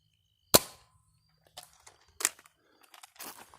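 Foam darts from a Dart Zone Adventure Force Ranger blaster fired as a double shot outdoors at dusk: one loud sharp pop, then a second crack, with softer clattering impacts between and after.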